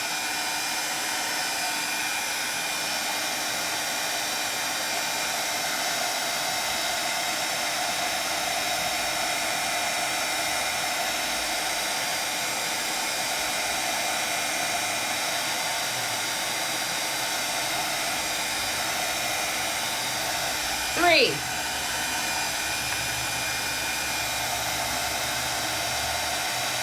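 A handheld heat tool for craft embossing blows a steady, loud whooshing hiss that runs unbroken from start to finish, with one brief sharp blip near the end and no talking.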